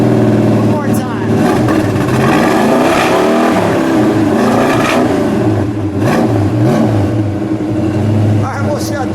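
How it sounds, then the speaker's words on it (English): A copper 1969 Dodge Charger 500 with a 426 Hemi V8 revs hard up and falls back, its deep rumbling exhaust swelling and settling close by while people talk over it. "Yeah, give it one good rev."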